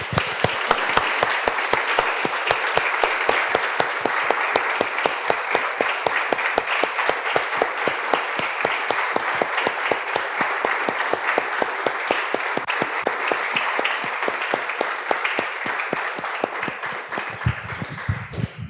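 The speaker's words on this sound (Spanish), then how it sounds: "Damos un aplauso, hermanos." A congregation applauds at the close of a prayer in a Spanish-language church service, a long, loud and dense run of rapid clapping that keeps an even pace and then tapers slightly at the very end.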